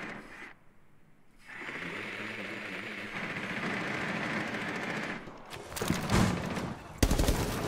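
Gunfire in the video game Rainbow Six Siege comes in rapid bursts over a steady background drone, growing louder and denser toward the end with a few sharp single shots.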